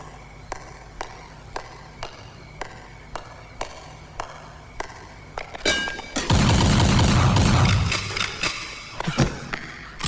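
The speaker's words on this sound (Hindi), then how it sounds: "आप बस गोलियां चला रहे थे" Sharp, regular bangs repeat at steady intervals, then a dense burst of loud, overlapping shots and crashing noise fills the second half.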